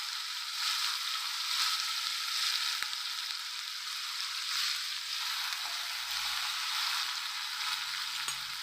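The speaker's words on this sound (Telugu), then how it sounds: "వేగిన తర్వాత టమాటాలు ఇది వేసేయండి." Tomatoes go into a hot frying pan for a bottle gourd curry and sizzle steadily, a loud, continuous hiss of frying with faint stirring, and no voices.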